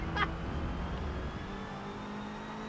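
A Honda VTEC engine revs in Forza Motorsport 7, a steady close whine of engine tones held through the whole stretch, with a brief sharp burst near the start.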